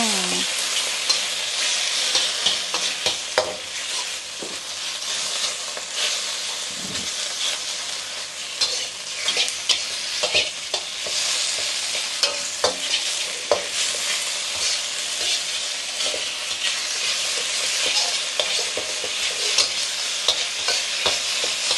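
Pork stir-frying with garlic in a hot wok for Thai fried rice, a steady loud sizzle with hiss and steam and frequent sharp clacks of the spatula against the pan, continuous throughout with no talk.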